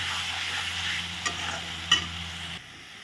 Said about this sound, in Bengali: এখন ভালো করে আমি কষিয়ে নিচ্ছি লবণ হলুদ সব কিছু দেওয়ার পরে